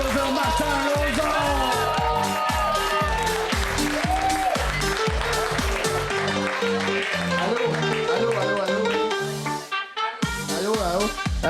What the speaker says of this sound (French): On commence à applaudir Martin Lauzon!